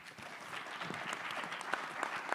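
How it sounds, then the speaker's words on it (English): An audience at a business pitch event applauds steadily, a close, dense patter of many hands clapping at an even level for the whole stretch, with a few sharper individual claps standing out near the end. "Big round of applause for Ryan."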